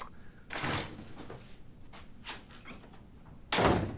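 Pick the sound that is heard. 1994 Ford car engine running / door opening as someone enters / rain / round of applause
door opening as someone enters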